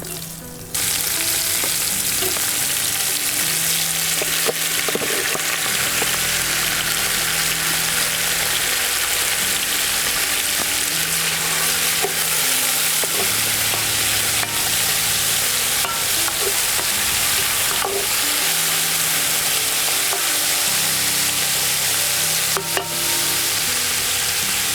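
Chicken and cubed pork loin frying in hot oil in a Dutch oven over a fire outdoors, a loud continuous sizzle and crackle with occasional stirring scrapes, steady throughout.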